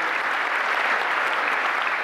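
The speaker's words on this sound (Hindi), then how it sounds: "मैं चाहूँगा कि उनके लिए ज़रा जोरदार तालियां हो जाए।" A concert-hall audience at a live comedy show in Leicester gives loud, continuous applause, a thick even roar of many hands clapping with no break.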